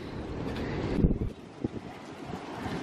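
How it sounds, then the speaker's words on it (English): Strong gusts of wind blow through trees outdoors, a low roaring rush buffeting the microphone that swells and dips without pause. "Man, the wind is really blowing today. It's blowing the trees everywhere."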